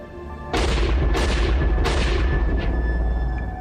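Rifle shots ring out in a quick series of three or four loud, sharp reports, each trailing into a long echoing boom, one after another with no talk.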